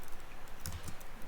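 Quick, light clicks of a computer keyboard being tapped while code is entered, a few soft keystrokes in a brief, close burst over faint room noise.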